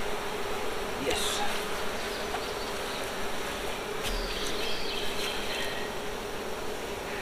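Honey bees buzz steadily around an open brood box in a hive, a dense continuous drone close by, with a few louder passes of individual bees and no speech.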